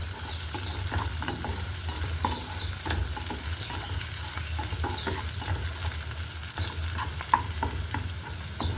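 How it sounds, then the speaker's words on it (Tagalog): Garlic and onion sautéing in a pan, a steady moderate sizzle with frequent light taps and scrapes of a spatula stirring, no one speaking. "Yan, sunod natin yung sibuyas. Pabanguhin natin ang sibuyas."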